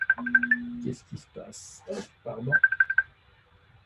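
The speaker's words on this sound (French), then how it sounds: "c'était mon téléphone" A mobile phone gives a short rapid run of high electronic beeps, goes quiet while someone speaks in French, then beeps again in a second quick burst, close by and fairly loud.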